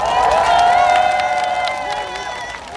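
Crowd at a Jeju political campaign rally for candidate Lee Jae-myung cheering and clapping, loud shouts and whoops with scattered claps that swell early then gradually fade, voices prominent in the mix.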